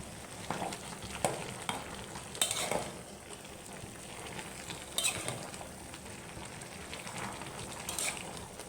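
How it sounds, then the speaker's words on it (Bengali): Curries being stirred and turned over in a pan, a soft frying sizzle under intermittent scraping and clinking strokes of a spoon against the pan, fairly quiet, with no talking. "দেখি তরকারিগুলোর কি অবস্থা। একটু নেড়ে দিই উল্টিয়ে পাল্টিয়ে।"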